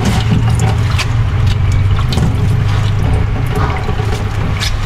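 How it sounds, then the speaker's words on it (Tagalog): Fresh mountain water gushes loudly and steadily into a bucket, a dense, unbroken splashing and pouring sound close by with no talking. "Pupunuin ko na itong isang balde."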